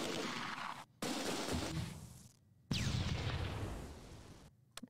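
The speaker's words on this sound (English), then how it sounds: "Dropping mortars all around him" Mortar fire in the World War II strategy game Close Combat 2: A Bridge Too Far, with three heavy booming blasts in succession, each rumbling off before the next, and faint crackles at the end.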